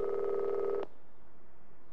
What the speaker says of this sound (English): We need to pick up the phone.